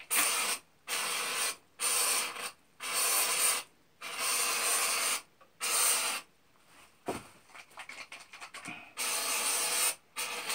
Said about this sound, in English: we're gonna spray it now